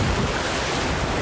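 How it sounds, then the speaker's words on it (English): Steady broadband rushing of river waves on the Main Salmon River in the Frank Church Wilderness of No Return, continuous and fairly loud with no pauses or voices. "What you hear are the sound of the waves of the Main Salmon River in the Frank Church Wilderness of No Return"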